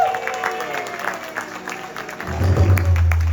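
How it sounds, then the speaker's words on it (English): A crowd at a Mother's Day and anniversary yagna breaks into applause, building from scattered claps under a speaking voice into fuller clapping toward the end. "give her a nice round of applause"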